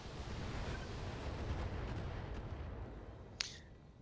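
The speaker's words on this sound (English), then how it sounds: "One set of missiles on that turret. One on the Orion. Firing on multiple." Missiles fire at an assault turret in a sci-fi combat video game, a low, steady rumbling roar that fills the clip, fairly quiet overall, with one brief sharp crack near the end.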